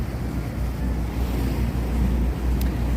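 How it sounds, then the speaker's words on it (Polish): A water bus cruises on the Tagus river in Lisbon, its low engine drone and wash of water mixed with steady wind buffeting the microphone throughout. "Autobus wodny płynie."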